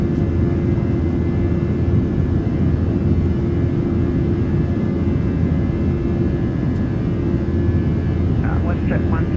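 A PMDG Boeing 737-800 jet takes off in a flight simulator, with a loud, steady engine roar sustained throughout and a voice talking briefly near the end.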